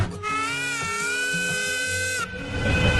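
A steam engine boat's whistle toots on a river cruise, one sustained, tonal blast held for about two seconds before cutting off, loud and close, followed by a short stretch of wind and water noise.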